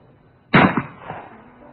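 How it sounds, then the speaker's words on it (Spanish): A single loud gunshot fired at a mannequin cracks sharply out of near-silence, followed by a short rattling impact and a fading tail. "Vamos a practicar unos pequeños disparos, a modo de experimento"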